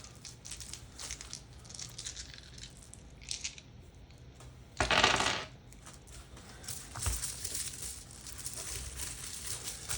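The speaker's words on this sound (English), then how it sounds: "I'll throw some more 6-sided dice out on the table." Handful of six-sided dice tossed onto a tabletop during a Dungeons & Dragons session, a sharp clattering burst midway with scattered rattles and light clicks before and after, fairly close.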